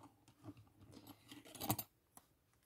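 Scissors snip through paper for a junk journal, a short burst of crisp cutting strokes peaking near the middle, fairly faint and close, with a few small rustles before and one brief click after.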